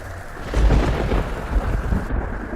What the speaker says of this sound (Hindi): घर में बैठकर तुम नहीं देख पा रही हो कैसा तूफान हो रहा है?